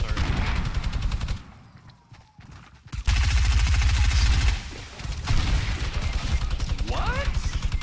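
Rapid gunfire from Fortnite pistols crackles in loud, close bursts of repeated shots, broken by a quieter gap before the firing resumes; people talk excitedly throughout.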